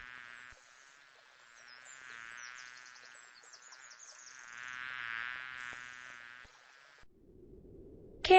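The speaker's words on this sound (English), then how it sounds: "Here is a bee." A bee buzzes steadily with a wavering, whining hum that swells and fades for about seven seconds, then cuts off before a brief low rumble.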